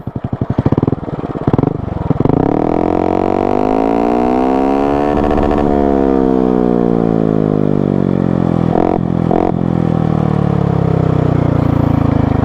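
A rare Honda Wave motorcycle with a loud aftermarket exhaust revs hard in neutral, rear wheel off the ground: a few quick blips, then a long sweeping rise and fall in pitch, with later short blips, close and loud.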